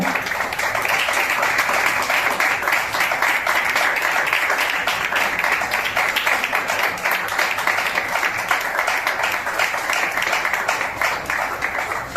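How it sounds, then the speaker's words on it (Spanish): A church congregation claps together in praise during a Spanish-language Christian sermon, a continuous, even wash of many hands clapping at steady strength with no speech rising above it. "dale fuerte las palmas al Señor"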